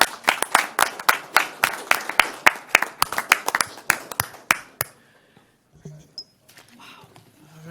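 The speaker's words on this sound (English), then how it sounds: "How about a big round of applause?" Applause from a fire board meeting audience, brisk crisp clapping that fills the first five seconds and then stops abruptly, leaving quiet room noise and a faint voice.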